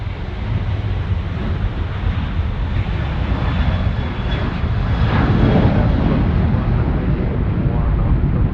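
A Qantas airliner takes off at Sydney Airport with a loud, sustained jet roar that builds and peaks midway, as wind buffets the microphone.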